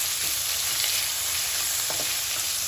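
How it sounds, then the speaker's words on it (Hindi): Two medium onions, thinly sliced, frying in hot oil for Rajasthani red mutton, with a brief, close, steady sizzle and faint stirring and no talking. "अब अच्छे से तेल में प्याज को फ्राई करेंगे"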